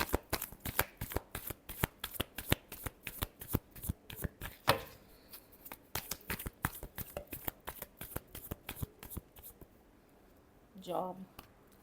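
Tarot cards shuffled by hand in a rapid run of crisp riffling flicks for most of the stretch, pausing briefly twice before a short burst of talk near the end.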